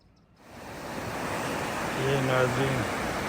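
The River Almond at Cramond village near Edinburgh, Scotland, rushes over stones in a steady, close broadband roar, with a brief voice humming or speaking faintly beneath it near the end.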